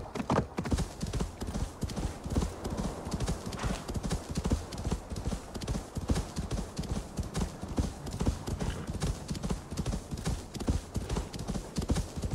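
Horse hooves galloping in Assassin's Creed Valhalla, a fast, steady clip-clop rhythm of hoofbeats running throughout, loud and close, with a brief whinny near the start.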